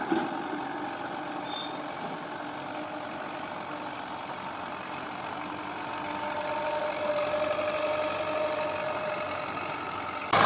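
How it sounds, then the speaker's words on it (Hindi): A tractor drags a rotavator through farmland, its engine humming along steadily at a moderate distance and swelling slightly louder toward the end, with no voices. "अब इस हिस्से में हम रोटावेटर से जुताई कर रहे हैं। अब इसको हम पूर्व पश्चिम चला रहे हैं ट्रैक्टर को"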